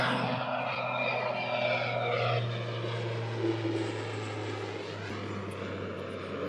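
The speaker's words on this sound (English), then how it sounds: "another plane taking off" An airplane takes off nearby while someone is out metal detecting in Canada, its engine a loud, sustained roar with a steady drone that slowly shifts in pitch as the aircraft climbs past.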